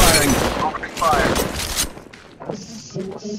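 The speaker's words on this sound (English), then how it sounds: "Opening fire." Rapid automatic gunfire rattles in Apex Legends Mobile, a dense burst of shots followed by a lull and then a few scattered, fainter shots, with game voice lines partly mixed in.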